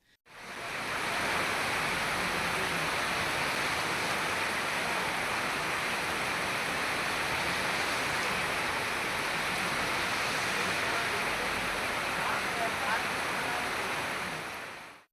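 Heavy rain and rushing water in Tamil Nadu, a steady dense roaring wash that holds evenly throughout at moderate loudness, with no voices.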